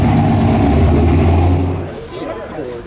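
A V8 engine in a Z car at Monterey Car Week revs with a loud, low, throaty roar up close for about a second and a half, then drops away while people talk over the fading sound.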